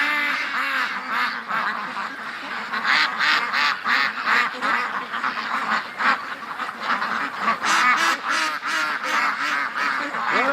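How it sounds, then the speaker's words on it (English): A yard full of ducks quacks constantly, dozens of overlapping calls close by forming a dense, restless chorus with occasional honks mixed in. "As you can tell, the yard's full of ducks."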